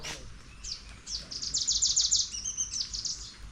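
Several bright, high chirps from birds come in quick bursts, close by and clear, over a low outdoor background.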